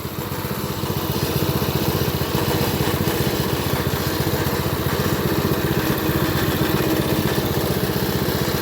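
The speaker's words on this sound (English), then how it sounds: "It's a go-kart. It's gonna rattle, make a little noise." Small go-kart engine idling steadily close by after a pull start, a buzzy rapid putter with a constant mechanical rattle, loud and unbroken with no talk.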